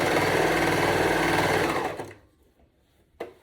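Sewing machine running steadily for about two seconds while stitching a 3/8 inch seam on reversible swim bottoms, then stopping, followed by quiet handling and a brief click.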